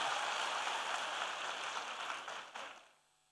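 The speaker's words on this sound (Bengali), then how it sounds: "আমাদের উচ্ছ্বাসের জন্য একটা জোরে হাততালি দিই।" A rally crowd listening to Dr Yunus bursts into sustained applause, a dense, even patter of many hands clapping that holds steady, then tapers and fades out near the end.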